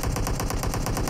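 Rapid automatic gunfire in PUBG Mobile, a loud, evenly spaced burst of about ten shots filling the whole moment with no talk.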